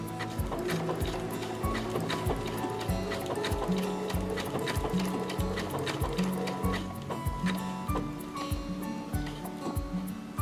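A quilting sewing machine runs a blanket stitch: fast mechanical clatter with a rhythmic pulsing thump that shifts pattern as the stitch repeats, close and continuous throughout, no talking.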